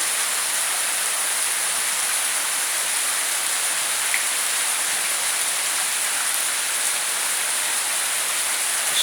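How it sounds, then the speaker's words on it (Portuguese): Heavy rain pours down during a storm in Carolina, Maranhão, a dense, steady hiss of falling water on surfaces that holds unbroken throughout, with no voices. "Temporal e chuva forte."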